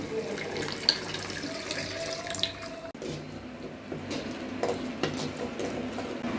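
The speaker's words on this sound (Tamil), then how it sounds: "இப்போ நான் கொஞ்சமாக மிக்சியில் அரைச்ச தண்ணியை தான் நான் சேர்க்க போகிறேன்" Mixer-ground masala water pours and splashes steadily into a pan of mint chicken gravy, with small drips and stirring clinks, close by and fairly loud throughout.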